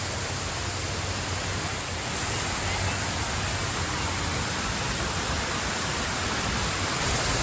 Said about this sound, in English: be prepared to get wet with this amount of water